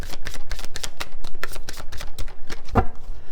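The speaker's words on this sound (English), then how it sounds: "Getting to the point where I know when to stop shuffling." A deck of tarot cards is shuffled close up in quick, repeated riffling bursts, brisk and fairly loud, with no talking.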